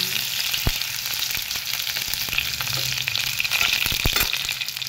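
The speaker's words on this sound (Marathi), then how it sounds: "जिरे, लसूण कलर चेंज होईपर्यंत आपण ह्याला भाजून घेऊ." Cumin, mustard seeds and garlic roasting in oil in a pan give a steady close sizzle and crackle, with occasional sharp pops and light stirring throughout.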